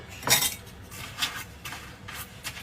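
Dishes and cutlery being washed in a sink during a solo evening livestream: a few separate bursts of clinking and scraping at close range, spaced about a second apart, with no talking.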